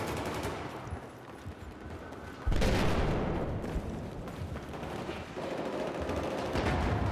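Sustained automatic rifle fire from a G36C-style weapon in a Battlefield 4 Conquest match on Sunken Dragon, dense rattling bursts with a sharp louder volley partway through, continuing steadily to the end.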